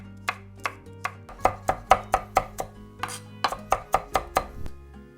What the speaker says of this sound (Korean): 청양고추요. 잘게 다져 주겠습니다.